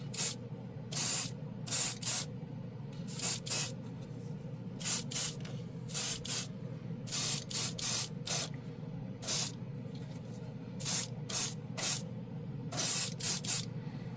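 An airbrush sprays Glacier Blue paint in repeated short bursts of hiss, roughly a dozen sharp pulses separated by brief pauses over a faint steady background.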